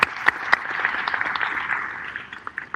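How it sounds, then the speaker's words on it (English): An audience at a summit on sports business at Southern University claps in a moderate round of applause, a scattered patter of hands with a few sharper close claps, fairly brief. "Give him a round of applause"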